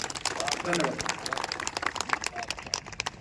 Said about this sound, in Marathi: सर्वांनी एकदा जोरदार वसंत सरांना या छान अशा व्याख्यानाबद्दल टा जोरदार टाळ्या द्यायच्या